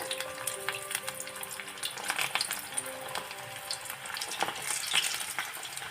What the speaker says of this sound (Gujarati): જોઈ શકો છો કે બોલ્સને આપણે તેલમાં એડ કરી દીધા છે